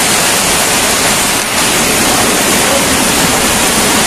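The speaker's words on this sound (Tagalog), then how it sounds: "Ayan yung tubig dyan. Pumasok na sa loob." Floodwater pours into a countryside house during a flood, a loud, dense, continuous rushing roar with no pauses.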